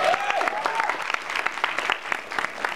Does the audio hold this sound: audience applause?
yes